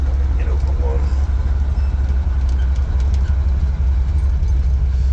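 A 1986 Ford Bronco with a fuel-injected 460 engine and ZF5 swap climbs an on-ramp, a loud steady low drone heard from the cab, with a voice talking over it.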